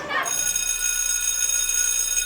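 A school bell rings with a continuous, bright metallic tone, loud and steady throughout, starting after a brief moment at the beginning.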